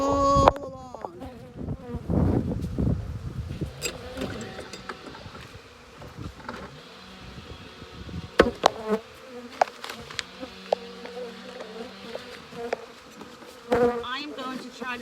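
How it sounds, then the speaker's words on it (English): Honeybees buzz around an open beehive in a beeyard, a close, wavering hum with individual bees passing near, mixed with handling clicks and rustles. "now we're gonna head over to Queen Catherine, who, honestly, this hive has been strong all along"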